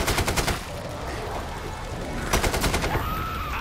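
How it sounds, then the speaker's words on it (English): An AK rifle fires in Killing Floor 2, with a quick volley of sharp, close shots, a steadier stretch of action, then another rapid burst. "I just love this AK."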